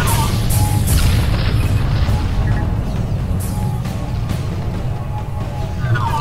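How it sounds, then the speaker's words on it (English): Missile explosions and blasts in the FreeSpace space combat game, heavy booming and crashing impacts rumbling continuously and loudly throughout with no talk. "Somebody is fucking blasting me from afar with missiles"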